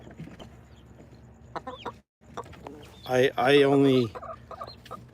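Pet laying hens on an Arizona homestead give a loud, close cluck and squawk, with softer scattered clucks and faint bird sounds around it and a person speaking briefly.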